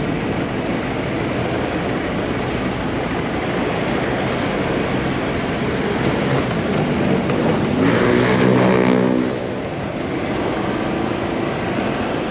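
Shuttle buses at Soekarno-Hatta airport make a steady, loud vehicle rumble with broadband traffic noise, and an engine swells briefly toward the end before settling back.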